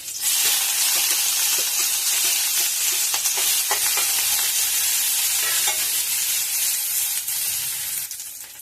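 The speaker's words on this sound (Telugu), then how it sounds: "ఆయిల్ వేడెక్కాక కట్ చేసుకున్న ఉల్లిపాయ, కొద్దిగా క్యాప్సికమ్ ముక్కలు కూడా యాడ్ చేసుకోవాలి." Chopped onion and capsicum pieces fry in hot oil for capsicum rice, a continuous loud sizzle and hiss with faint stirring scrapes throughout and no talk.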